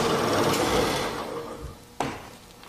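A square mortising chisel on a drill press sliding through wood to clean up mortise shoulders, a close, rasping cut that fades out, then a single sharp knock.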